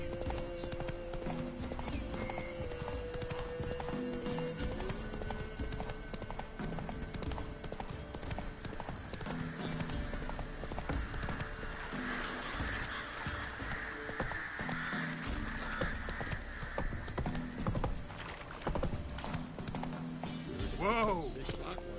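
Horse hooves galloping in The Witcher 3, a steady rhythmic clip-clop running throughout with occasional neighs and whinnies, mixed under game dialogue and background music.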